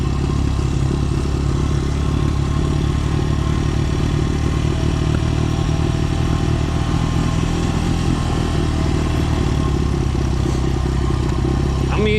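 A Honda XR100 dirt bike engine drones loudly and continuously as it rides downhill, held in low gears for engine braking, with a steady clattering hum throughout.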